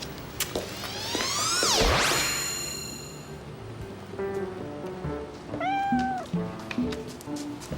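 A cat meows clearly a few times, with a bright ding and a swooping electronic effect early on, set in a French children's show scene about cats and mice.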